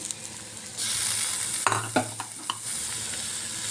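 Ginger garlic paste hits hot oil with softened chopped onions in a pan for soya keema, a sizzle that swells suddenly, then a few sharp stirring scrapes and clacks over a steady frying hiss, close and without speech.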